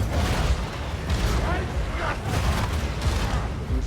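Stun grenades going off during a horde fight in Warhammer 40K Darktide: dense, continuous booming blasts and rumbling impacts with layered combat noise, loud and sustained throughout.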